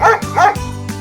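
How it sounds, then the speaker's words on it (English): Dog barking twice in quick succession, close and loud short woofs over a soft musical background, with a brief whine-like tail. "Or C, a woof woof,"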